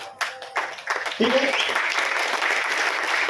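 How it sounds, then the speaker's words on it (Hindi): An audience at a business meeting breaks into clapping after a short spoken remark, building quickly into steady, sustained applause that fills the room. "अगर अच्छी लगती है और मैं सही बोल रहा हूं तो आप जोर से क्लैप्स करेंगे"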